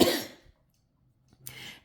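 Two close, harsh coughs separated by a short silence, the first louder and longer than the second.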